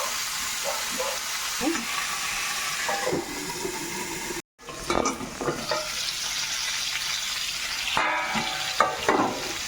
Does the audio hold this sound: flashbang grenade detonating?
no